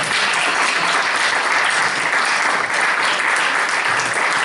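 Loud, dense applause from a seated audience at a Slovenian talk event, steady and unbroken from start to finish, with no speech over it.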